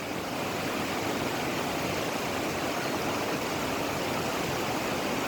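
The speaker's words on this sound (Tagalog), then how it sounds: "Itong agos ng tubig or maragasa." Rushing mountain stream flowing under a bridge, a dense continuous hiss of water close by, steady and fairly loud with no breaks.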